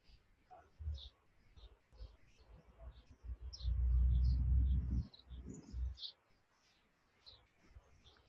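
Birds chirp and tweet outdoors in a park, with repeated short high calls spread across the clip over a low rumbling background that swells loudly in the middle.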